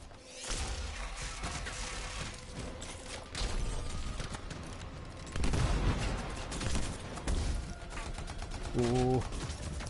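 Bursts of gunfire in the video game Anthem pepper the player, rapid cracks and rattling volleys with whooshes, mixed under game sounds and a voice talking.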